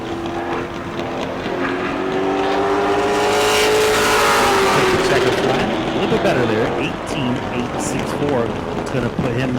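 A pro late model race car on a qualifying lap at New Smyrna, its engine droning loudly and rising as it approaches and passes, with a commentator talking over the sound.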